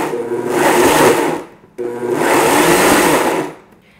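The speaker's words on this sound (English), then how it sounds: "Then I'm going to put the lid on, and this is going to be blended" A nacho cheese mixture for steak and beer cheese nachos whirs loudly in a lidded blender, in two close pulses of about a second and a half each separated by a brief stop.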